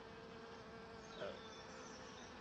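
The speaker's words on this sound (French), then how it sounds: "Regarde-moi ces petites abeilles. Ah, ça bosse partout" Honey bees buzzing steadily around a small entrance hole of an outdoor hive after winter, a continuous close drone with a brief louder swell as one flies past.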